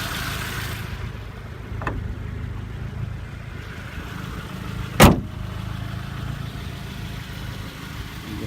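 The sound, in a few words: 1988 Honda Civic wagon engine, setting off down the road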